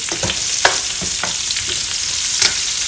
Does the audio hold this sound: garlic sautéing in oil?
yes